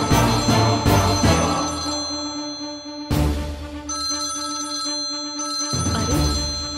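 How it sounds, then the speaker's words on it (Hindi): A telephone rings loudly and close, its electronic ringtone bursts repeating in steady cycles with brief pauses, heard alone without any talking. "अरे ये तो रानी भी क्या फोन बजा।"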